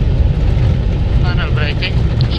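Reverse thrust from an Airbus A320 after landing at Tenerife, heard from the cockpit as a loud, deep, rumbling engine roar that holds steady, with faint tonal whines entering toward the end.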